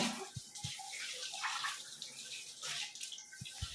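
Water pours and splashes steadily from a tap, with a few low knocks and gurgles as it fills a basin.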